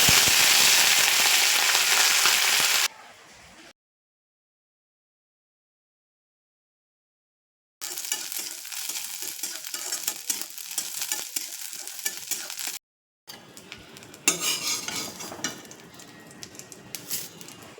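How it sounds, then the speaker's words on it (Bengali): Moringa leaves fry crisp in hot oil in a kadai, giving off a loud, dense sizzling crackle that cuts out twice into complete silence before resuming with sharp popping bursts. "পাতাগুলো মুচমুচে করে ভেজে তুলে রাখুন।"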